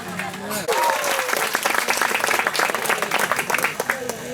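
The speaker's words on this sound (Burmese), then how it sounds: "အားလုံးလက်ခုပ်တီးပေးပါ" An audience at a Christmas mission field gathering breaks into sustained applause, dense and steady clapping after a brief sung or spoken phrase at the start.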